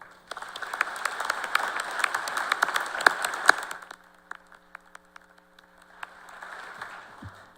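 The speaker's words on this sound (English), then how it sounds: "Please join me in the applause." An audience at a university commencement ceremony claps in a brisk burst of applause that rises and then drops off sharply about halfway, leaving a quiet stretch with a few stray claps and a faint return of clapping near the end.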